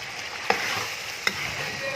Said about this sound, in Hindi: तो तकरीबन 10 से 15 मिनट हो चुके हैं चिकन को भूनते हुए।